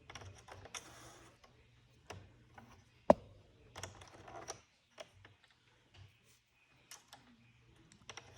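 An Addi knitting machine is cranked slowly, giving faint, irregular plastic clicks and ratcheting ticks with one sharper knock and quiet gaps between them.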